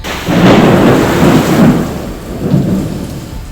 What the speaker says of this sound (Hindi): आसमान में बिजली कड़कने की आवाज भी सुनाई दी